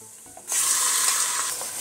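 Chicken pieces drop into a hot pot for curried chicken and lentils and burst into a loud, steady sizzle that starts suddenly after a quiet moment and keeps hissing with no talking.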